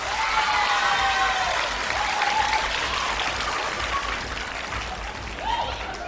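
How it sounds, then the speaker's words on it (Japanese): A large audience claps enthusiastically in a continuous, loud roar of applause, with faint voices and cheers mixed in. "もう一度大きな拍手を。"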